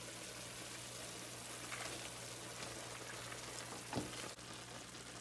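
Cabbage frying in a pan for a low-carb chicken stir-fry, a steady close sizzle with a constant hum beneath and a brief clatter near the end; no talking.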